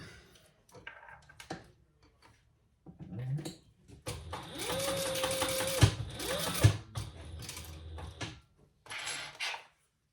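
A sewing machine bastes the ends of a crossbody sling bag shut in short, faint bursts of stitching, with quiet handling noises before and after.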